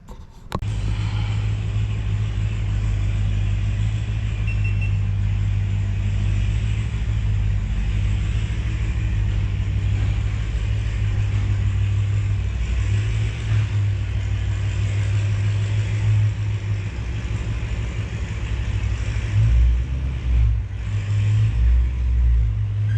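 A 700 WHP car engine runs on a dyno, a loud sustained low rumble that holds steady and swells a little near the end, with no talking.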